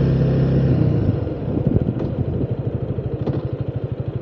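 Honda Rebel 300 motorcycle cruising at highway speed, a steady close engine drone with rhythmic pulsing beneath wind rush, no talk over it.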